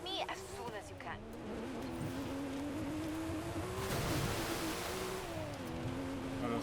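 A car engine drones and revs steadily while driving in the racing game Forza Horizon 5, rising and falling in pitch without pause, with a voice speaking over it.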